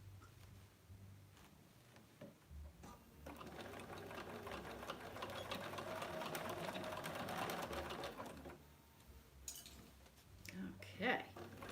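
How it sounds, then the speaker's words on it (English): Domestic sewing machine stitching quilted oven mitts made from Kaffe Fassett fabric, running steadily with a rapid mechanical whir for several seconds, framed by quieter handling clicks and taps before and after. "I'm going to do the rest of my sewing."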